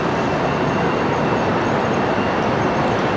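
A train at an Italian railway station makes a loud, steady, close rumble that fills the whole moment without a break.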